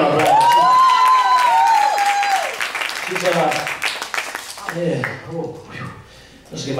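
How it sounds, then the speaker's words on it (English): An audience claps at a live music show at the Clarion, with a steady wash of applause under a sustained voice, slowly thinning out toward the end. "Let's give her a round of applause."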